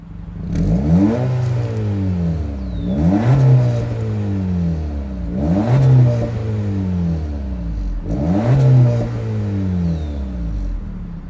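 A 2024 Acura Integra A-Spec's turbocharged inline four-cylinder engine revs up four times in a row, each rise climbing sharply and then dropping back to a steady idle, close by.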